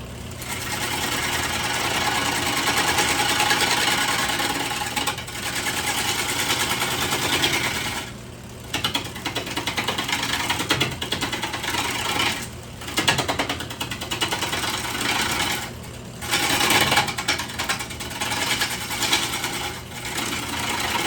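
Wood lathe spinning a cedar bowl blank while a tenon is cut on its end, giving a steady loud mechanical whir with a low hum, briefly dipping a few times as the tool lifts off the wood.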